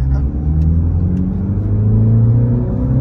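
A healthy car engine pulling hard at speed on a track, a loud, close, continuous drone with steady rising harmonics throughout and no pause.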